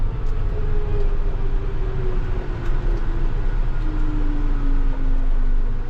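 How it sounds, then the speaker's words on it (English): A car draws closer along a road beside a field, its engine tone sliding gradually downward as it nears, over a loud, constant low engine rumble that fills the background. "Here comes the car."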